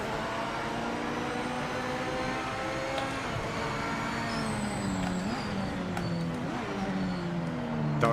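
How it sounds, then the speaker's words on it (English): A race car engine in the Project Motor Racing game drones steadily with rising and falling revs and several downshift blips, loud and continuous with no voices. "Downshifts sound awesome."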